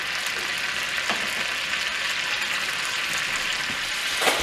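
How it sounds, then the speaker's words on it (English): Food browning in butter in a pan on an old wood cook stove, a soft steady sizzle with faint crackles at moderate level, no talk. "Doesn't hurt to add a little butter to brown them up."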